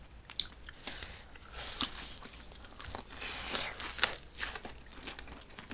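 Crunchy fried chicken chewed close to the mic, with repeated crisp bites and crackling crunches over several seconds, fairly quiet and with no talking.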